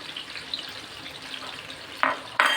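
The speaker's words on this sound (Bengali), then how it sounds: "তো এটা একটু ভাজা হোক" Pakora batter sizzles in hot oil over a low gas flame, a soft continuous frying hiss broken by two sharper bursts of crackling near the end, with no voices.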